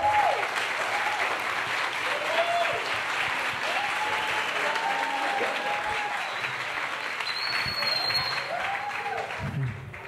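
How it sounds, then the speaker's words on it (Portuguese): Steady applause from a hypnosis stage show audience, with a few short voices and tones rising faintly above the clapping throughout. "uma salva de palmas para os nossos astros"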